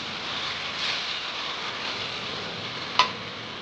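Masala for a beef roast fries in a pan and is stirred, with a soft, steady sizzle and scraping and one sharp clink of the utensil near the end.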